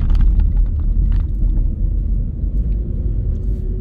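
Cars pass close by on a city street in Paterson, giving a loud, low rumble that swells and fades over a few seconds. There is no talk.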